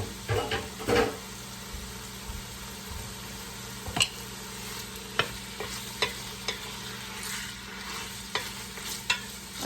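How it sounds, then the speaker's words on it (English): Sausage sizzling in hot olive oil in a pan, a continuous crackling fry broken by occasional clicks and knocks of a utensil against the pan. "I think the olive oil is just about hot enough I can put this sausage in there."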